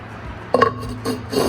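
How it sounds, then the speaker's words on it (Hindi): A metal lid set down on a cooking pot (handi) while preparing namkeen gosht, a clanking clink followed by a few lighter rattles as it settles, close and fairly loud. "ऊपर आपने इसका ढक्कन रखना है"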